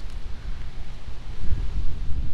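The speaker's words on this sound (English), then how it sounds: "It is very windy." Strong wind off the ocean beside a beach house, buffeting the microphone as a steady low roar and rumble with gusts, close and fairly loud, with no voices.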